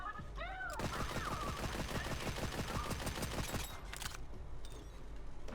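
Rapid bursts of turret gunfire in the video game Borderlands 3 on Nintendo Switch 2, a dense run of evenly spaced shots lasting several seconds, loud and up close, with a few game sound effects before and after.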